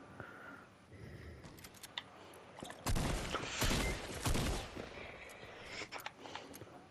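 Rocket launcher blasts and surrounding gunfire in Fortnite, a burst of loud explosive impacts in the middle with scattered sharp shots before and after.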